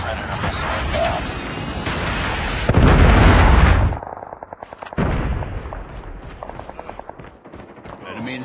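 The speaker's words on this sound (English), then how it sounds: "Friendly predator missile inbound." Gunfire and a predator missile strike in COD Mobile gameplay: loud bursts of shots, a heavy explosive blast, then rapid popping fire, with game voice callouts layered over the action.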